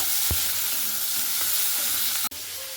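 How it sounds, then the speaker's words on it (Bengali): Sliced onions frying in oil with whole cinnamon and cardamom for a fish-head curry, a steady broadband sizzle throughout, with a few light utensil knocks and one sharp click near the end. "পেঁয়াজটা লাল লাল করে ভেজে নিতে হবে।"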